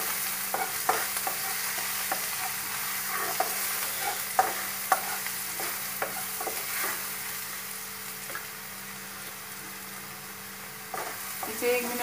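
Sliced onions for kanda poha fry with turmeric powder in a pan, giving a steady, close sizzle broken by irregular scraping clicks as a spoon stirs them.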